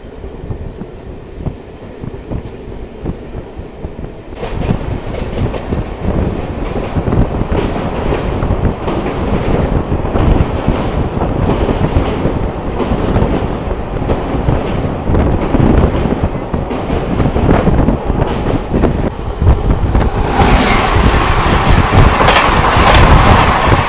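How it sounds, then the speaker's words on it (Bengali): A local train pulls out of Rajghat railway station, the noise swelling from a quieter rumble into a loud, steady roar of wheels and rushing wind that continues to the end. "রাজঘাট রেলওয়ে স্টেশন থেকে আমাদের ট্রেন ছেড়ে দিল"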